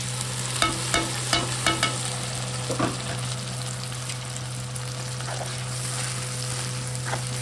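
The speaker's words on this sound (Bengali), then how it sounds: "এখন দেখো এই পেঁয়াজের মধ্যে আদা, রসুন, কাঁচা লঙ্কা পেস্ট দিচ্ছি" Sliced onion fries in oil with ginger, garlic and green chilli paste for an Indian-style soya bean curry: a constant close sizzle with a row of scraping stirs early on, over a low steady hum.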